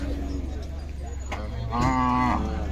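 A Kajali Khillar bull lows once at a cattle market, a drawn-out, loud, tonal moo rising near the end, over steady crowd and market noise.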